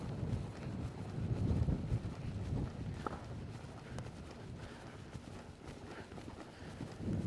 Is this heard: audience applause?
no